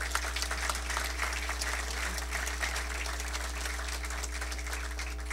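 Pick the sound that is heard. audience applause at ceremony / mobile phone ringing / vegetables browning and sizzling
audience applause at ceremony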